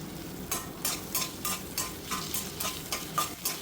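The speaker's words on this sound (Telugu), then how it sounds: "క్యారెట్, తర్వాత ఉల్లిపాయలు, పచ్చిమిర్చి ఇవి కొంచెం ఫ్రై చేద్దామండి" Carrot, onion and green chilies fry with cumin for veg paneer fried rice, a crackling sizzle broken by regular rhythmic spatula strokes against the pan, close up with no talking.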